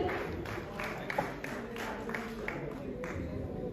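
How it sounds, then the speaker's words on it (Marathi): Audience applause at an award ceremony, a steady wash of clapping from a crowd throughout, fairly even in loudness with no clear pauses. "जोरदार टाळ्या झाल्या पाहिजेत"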